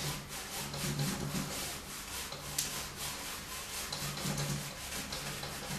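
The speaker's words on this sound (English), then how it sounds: "grab myself a clean brush and then just come in on the light area, I can actually blend that really soft." A clean paintbrush softly blending paint over the light area of a waterfall painting with little crisscross strokes, giving a steady run of close, dry scratchy rubs with no talking.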